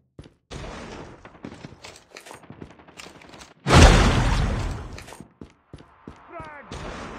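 A frag grenade in Call of Duty Mobile bursts in one loud, close explosion midway, its roar decaying over more than a second, amid scattered gunfire clicks and gear sounds before and after.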